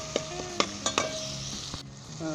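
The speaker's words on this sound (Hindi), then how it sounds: "तीन से 4 मिनट इसे हम पकाएंगे ताकि हमारे टमाटर जो है सॉफ्ट हो जाएं" Tomato masala fries in a pan, with a soft, even sizzle broken by several sharp clinks and scrapes of a spoon against the metal before the sound briefly drops away.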